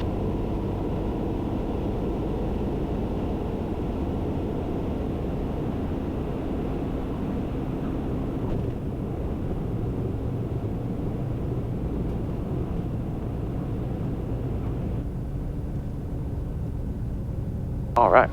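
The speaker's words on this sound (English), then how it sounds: "Such a great plane, man." A Piper Comanche airplane engine drones steadily in flight, a constant close low roar filling the cabin from start to finish, with a brief click near the end.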